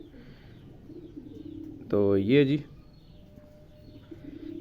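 A Sialkoti breeder pigeon gives one short, close, throaty coo lasting under a second, between brief spoken remarks and quiet stretches.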